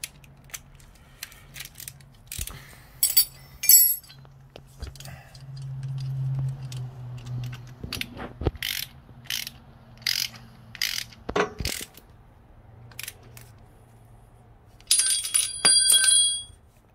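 Ratchet wrench tightening a bolt on TC Bros forward controls of a 2004 Harley-Davidson Dyna FXDI, with bursts of quick clicking strokes between pauses and light metal handling noises, near and clear.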